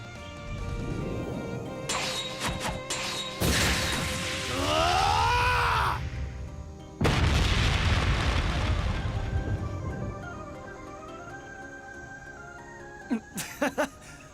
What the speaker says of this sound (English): Was that the Ungula barrage?